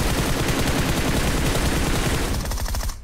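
Dense, continuous video game gunfire, with rapid machine-gun bursts and overlapping shots firing loud and close the whole time, thinning slightly just before the end.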